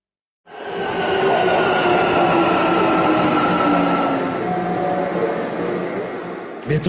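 Steady loud roar of a subway metro train in motion, heard from inside the car, with sustained rumble and faint rail squeal tones running throughout, ending with a brief clunk.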